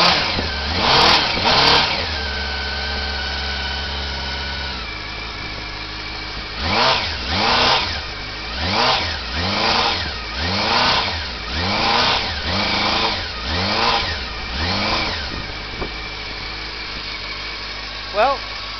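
A 1989 Honda CB-1 motorcycle engine fitted with a custom exhaust using a Triumph Speed Triple silencer idles steadily, then gives a loud, close series of about eight sharp throttle blips that rise and fall before settling back to idle.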